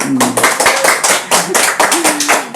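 A crowd at a Bogor community political event claps in bursts over a few seconds, with a voice talking and calling out over the scattered hand claps.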